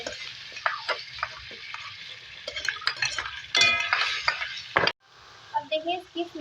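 Two tablespoons of garlic fry in a pan while a spoon stirs and scrapes it, giving a steady sizzle broken by clinks of metal on the pan, with someone speaking over the cooking.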